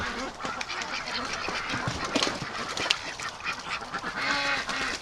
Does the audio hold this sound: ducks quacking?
yes